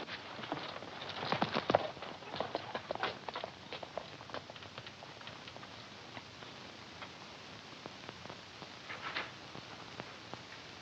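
Horse hooves clip-clop steadily on hard ground in a 1945 Western film, a quick uneven clatter of hoofbeats at moderate distance that continues throughout.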